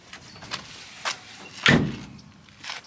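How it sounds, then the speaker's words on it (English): A few soft knocks and clicks, then one firm thud of a 1965 Chevelle SS car door shutting, followed by faint rustling; fairly quiet and close. "Let me shut this door for you."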